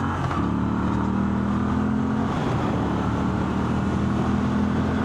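Moto Guzzi V7 Special MK IV motorcycle accelerating uphill in second gear, a steady droning engine note that climbs slightly under wind rush, continuous and close.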